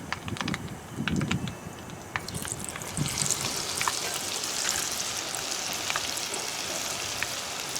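Food frying in hot oil, a small batch of about five pieces at a time, with steady crackling sizzle and scattered sharp pops throughout, some low bumps early on.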